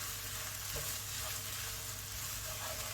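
Vegetables and noodles being stirred in a wok for sweet chilli noodles: a dense, continuous sizzle with scraping and tossing, close and fairly quiet, no voices.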